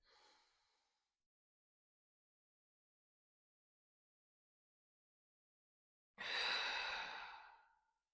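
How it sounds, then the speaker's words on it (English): A single long, deep breath drawn in during a guided breathing exercise, loud and close with a breathy rush, preceded by a faint short breath trailing off and several seconds of silence. "we'll take a deep inhale in, we'll hold it, and slowly release"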